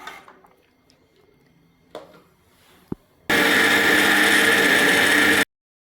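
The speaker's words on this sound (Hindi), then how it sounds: "तो अब मैं इसको कर लूँगी अच्छी तरह से ब्लेंड।" An electric blender whirs through thick tamarind pulp for chutney, starting abruptly, running loud and steady for about two seconds, then cutting off sharply, after some quiet kitchen handling sounds.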